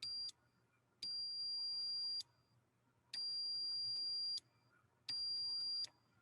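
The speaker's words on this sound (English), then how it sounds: "when there's conductance between the 2, then we should hear a beep" Continuity tester on a switch from an adapted children's toy, giving four long steady electronic beeps of varying length separated by short silences, clear and close with a faint hum underneath.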